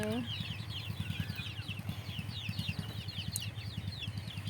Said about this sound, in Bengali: এই যে আমার দেশি মুরগিগুলো আলহামদুলিল্লাহ মার্শাল্লাহ দেশি মুরগিগুলো আমার বড় হয়ে উঠেছে